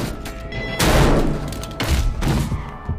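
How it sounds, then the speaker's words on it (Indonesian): Gunfire in a crime film scene about a former soldier turned hired killer, with several heavy booming blasts and thuds over a dense rumbling background, loud and close. "tiba-tiba rekan polisi itu datang lalu menembak Kwon"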